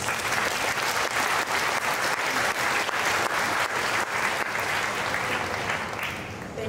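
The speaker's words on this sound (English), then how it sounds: "We will give them a round of applause." Sustained loud applause fills the hall at a Malaysia Book of Records ceremony for the biggest floating Christmas crib, a dense even roar of many hands clapping that eases slightly at the very end.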